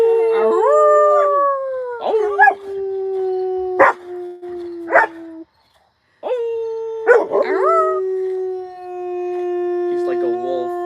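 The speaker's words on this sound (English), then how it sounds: "I love making him howl." A dog howls in long, wavering tones, several drawn-out howls with short breaks and a brief silence midway, close and loud.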